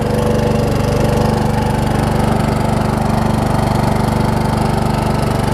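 A Troy-Bilt Pony riding mower engine runs steadily up close, a loud, even low throb with a constant rhythmic beat and no change in speed.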